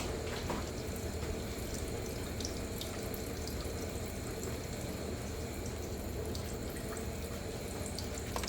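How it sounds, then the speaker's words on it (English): Water runs on a band saw under repair in a garage, a steady, unbroken hiss that stays at an even level throughout, with no voices. "I already got it plugged in and the water's running"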